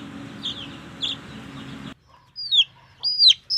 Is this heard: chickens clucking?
yes